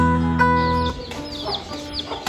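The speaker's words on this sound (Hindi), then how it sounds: "हमारी मुर्गी यहाँ पे घूम रही है।" Hen wandering near newly hatched chicks clucks and murmurs in a quick run of short, close calls after a sustained tonal opening.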